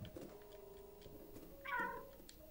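A cat in the video game Stray gives a single short meow, faint and set against low game ambience and soft ticking.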